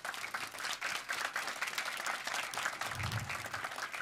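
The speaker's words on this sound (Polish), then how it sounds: "Wielkie Brawa" Brisk applause from an audience at a Polish event greeting guests, including the Marshal of the Senate, a dense patter of many hands clapping at a steady level throughout.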